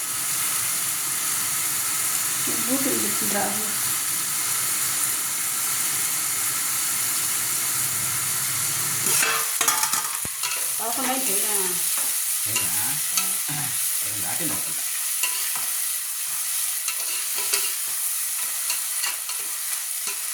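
Nellore-style fish curry (chepala pulusu) bubbles in a pan over a low flame. A steady, close sizzle and hiss carries throughout, broken by a few scraping stirs in the second half.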